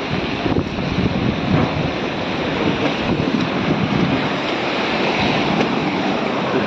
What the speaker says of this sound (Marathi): हे इकडचं समुद्राचं पाणी